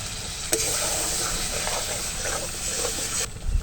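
Spice masala frying in a pan as splashes of rinse water from the grinder jar are added, a steady broad sizzle and hiss with a sharp crackle near the start and light stirring clatter throughout.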